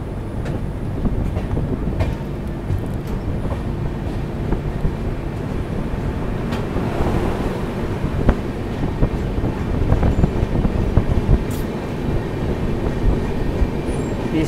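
A double decker train runs between Chennai and KSR Bangalore, a steady broadband rumble of wheels and carriage noise with wind buffeting throughout, continuous and close from inside the train.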